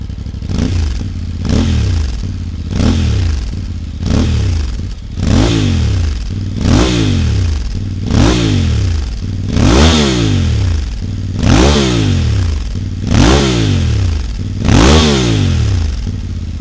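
Voge 800 Rally motorcycle with a Scorpion exhaust, baffle removed, revved repeatedly: about ten loud, close blips, each rising sharply then falling back to idle in a steady rhythm, with no talk.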